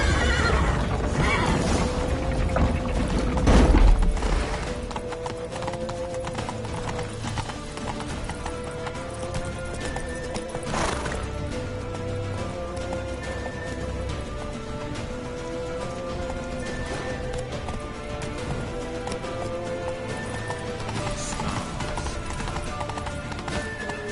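Horses galloping with steady clip-clop hoofbeats and repeated neighs and whinnies in the video game Witcher 3, loud and close, continuing without talk.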